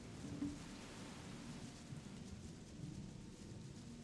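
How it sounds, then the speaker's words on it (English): Rain falling in the video game Gothic, a soft steady patter with low rumbling underneath, faint and unbroken, with no talking. "because now it's foggy and rainy"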